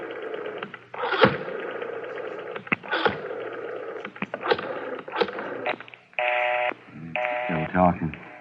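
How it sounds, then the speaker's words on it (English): Telephone being dialed in an old radio drama: a series of clicks and rotary-style bursts, then steady buzzing tones near the end, with voices talking in between. "Dial 9 to get outside, Garvey."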